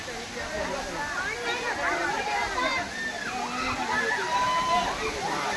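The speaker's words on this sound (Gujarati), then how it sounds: "આ લોકો આ રીતે ધોધની મજા લઈ રહ્યા છે." Water crashes steadily at a monsoon waterfall on Osam hill near Patanvav while a crowd of people bathing there splashes about, their excited voices and shouts layered over the constant roar.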